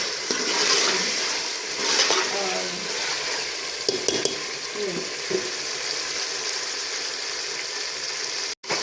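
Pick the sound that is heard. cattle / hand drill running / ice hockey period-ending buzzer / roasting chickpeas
roasting chickpeas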